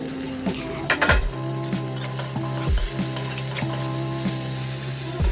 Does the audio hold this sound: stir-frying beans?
yes